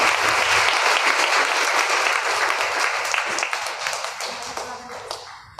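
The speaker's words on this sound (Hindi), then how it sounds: "ताली बजाओ मम्मी के लिए।" Church congregation at a Hindi satsang applauding, dense sustained clapping that gradually thins and fades toward the end, with a voice faintly under it.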